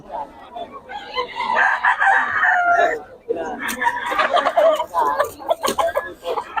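Hens and chickens cluck and squawk nearby in uneven bursts, with a crowing call rising partway through.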